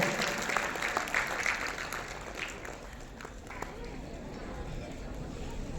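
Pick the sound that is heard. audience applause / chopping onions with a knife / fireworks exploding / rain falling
audience applause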